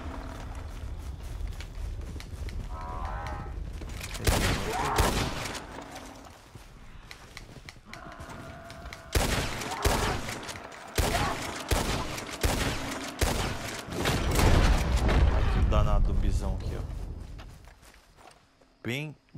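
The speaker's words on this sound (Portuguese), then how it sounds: "Nossa, tá muito tiro." Rapid bursts of gunfire in Red Dead Redemption 2 during a bison hunt, sharp loud shots in clusters, mixed with hoofbeats and game sounds while a player talks over them.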